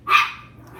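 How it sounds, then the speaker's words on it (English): A dog gives a single sharp, close bark in a home kitchen, loud and short with a quick fade into quiet room noise. "if these dogs will stop barking"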